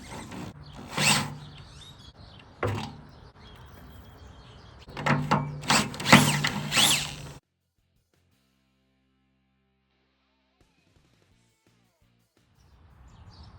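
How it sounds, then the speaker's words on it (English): A drill whines through steel in several short bursts, the longest around the middle, then stops and near silence follows. "I'm not going to burn this bit. I got a lot of holes to drill."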